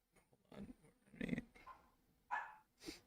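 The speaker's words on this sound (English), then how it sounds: "Don't mind my dog barking in the background." A pet dog barks and growls in a home during an NFL Browns vs Bears livestream; a few scattered, faint barks and rough vocal bursts at a distance, no speech over them.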